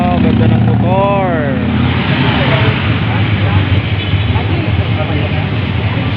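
Motorcycle passing on a busy street, a loud engine rumble that rises and then fades as it goes by, with mixed background street noise.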